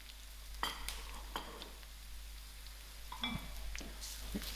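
Jeera and mustard seeds fry in hot oil, giving a soft, continuous sizzle with scattered small pops and crackles.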